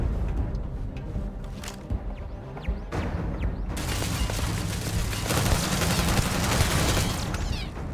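Gunfire in Starfield while destroying an enemy weapon: a few sharp isolated shots, then sustained dense rapid fire with crashing impacts, loud and close, no voices.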